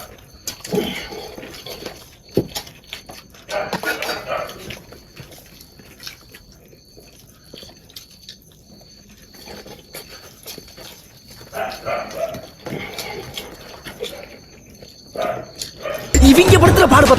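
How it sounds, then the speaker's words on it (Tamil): A dog barks in short repeated bursts nearby during an eating challenge, the barks spaced irregularly among chewing sounds and background noise, ending in a loud burst of noise. "நாயோட ஒரு பக்கம் கத்திக்கிட்டு இருக்கு"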